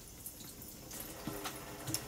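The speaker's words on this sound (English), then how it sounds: "now I'm cleaning my shrimp out with cold water" Cold water running from a kitchen tap over raw shrimp being rinsed, a soft continuous splash with small drips and irregular spatters as the shrimp are moved under the stream.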